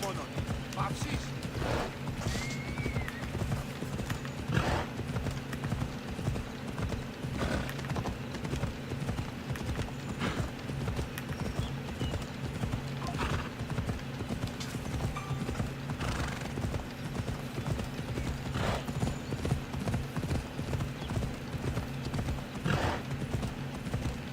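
Steady clip-clop of a horse galloping in Assassin's Creed Odyssey, a continuous rhythmic hoofbeat at moderate level with occasional whinnies, under faint game sound and talk.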